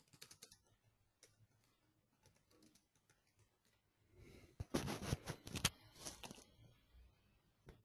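Typing code on a computer keyboard during a Java programming lesson: quiet scattered keystrokes at first, then a close, dense burst of rapid clicking in the second half that tapers off.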